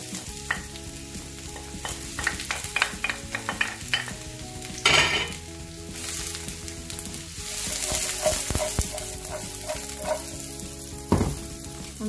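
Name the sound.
onions frying in olive oil in a pan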